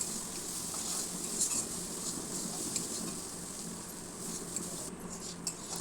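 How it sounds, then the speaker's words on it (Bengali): Egg tarka masala is sautéed in a pan with a steady close sizzle under repeated spatula scrapes and light metallic taps while it is stirred. "তরকাটা আমি একটু ভালো করে কষিয়ে নেব, যাতে কাঁচা গন্ধ কিছুরই না থাকে।"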